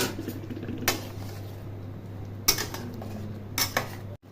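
Pieces of paneer dropped into a pan of cooked-down masala gravy for a hotel-style paneer butter masala, giving a few distinct clinks and knocks against the metal pan over a steady low hum.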